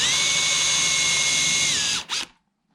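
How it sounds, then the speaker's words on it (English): Power drill counterboring a hole about 3mm deep in a wardrobe drawer front, a loud steady close whine for about two seconds that winds down and stops abruptly. "And we need to counterbore it by about 3mm."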